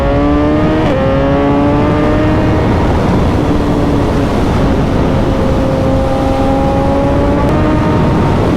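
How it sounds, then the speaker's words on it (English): A Ducati Panigale motorcycle engine rises and dips through its revs during a ride from Glasgow to Oban, loud and close with steady wind noise underneath. "oh Ducati Panigale"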